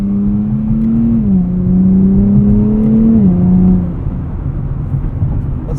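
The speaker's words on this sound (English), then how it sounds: "Nice blips on downshifts here from this 9-speed." 2024 Nissan Z Nismo with a 9-speed gearbox, heard from inside, droning steadily and blipping its revs on downshifts, with two short stepped pitch changes before the engine note fades under road noise.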